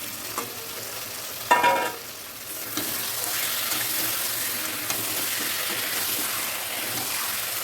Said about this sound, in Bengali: তা মাংসটা দেখো আমি দিয়ে দিচ্ছি।